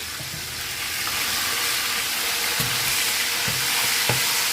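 Millet couscous browns in a hot pan with a steady, even sizzle and hiss, close and fairly loud, broken by a few soft scrapes as it is turned.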